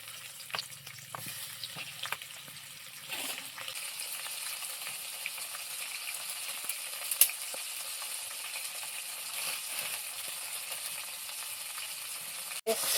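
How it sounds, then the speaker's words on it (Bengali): A fish head frying in hot oil, a steady bright hiss and crackle that settles into continuous sizzling, with a few sharp clicks and a brief splashy burst early on. "এই মাছের মাথা ভাজবো, এই তেলেই দিয়ে দেবো।"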